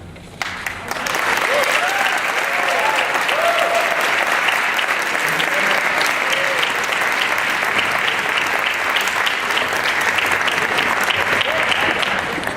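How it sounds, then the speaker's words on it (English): An audience at a community MLK breakfast in Hamtramck breaks into loud, sustained applause that starts abruptly and holds steady for many seconds, with a few faint voices mixed into the clapping. "Please give him another round of applause."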